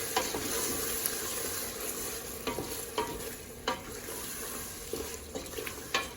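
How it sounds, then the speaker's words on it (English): Beef haleem with curry powder and spices is stirred in a pot, the sizzling steady beneath repeated scraping strokes of a spoon against the metal. "Mix everything together."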